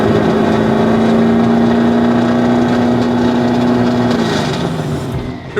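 UAE drift cars revving at Yas Marina Circuit, a loud sustained engine drone holding a steady pitch for several seconds before sliding lower and fading near the end.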